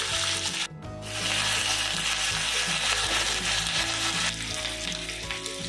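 Whole spices and leaves for an Indian tadka (cloves, cinnamon stick, dried red chillies, bay leaves and curry leaves) fry in hot oil for a Gujarati kadhi, giving a loud, steady close sizzle with a brief burst of spitting near the start.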